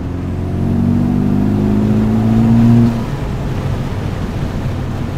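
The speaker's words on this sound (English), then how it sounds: "so far, it's a lot more noticeable with the exhaust note" Acura Integra Type-S with upgraded exhaust, a steady low engine drone that rises briefly into a stronger rev before settling back to a quieter idle, heard close by.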